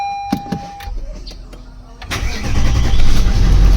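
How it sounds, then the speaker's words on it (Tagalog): Engine start on a 2018 Toyota Land Cruiser: a few clicks and beeps, then a starter crank at about two seconds as the engine catches and settles into a loud, steady low rumble. "Engine start."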